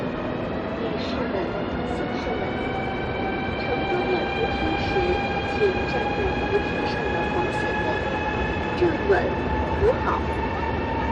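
A train rumbles steadily along with a rising mechanical whine as it pulls away from a station platform in Guangzhou, China, loud and close, with faint clatter over the constant noise.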